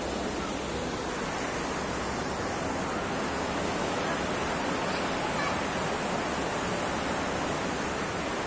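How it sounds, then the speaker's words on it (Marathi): Steady broadband roar of sea waves at high tide washing onto the shore, a continuous even wash with no distinct breaks, fairly loud and alone without voices. "फक्त लाटांचा भरतीचा तुम्हाला आवाज येईल."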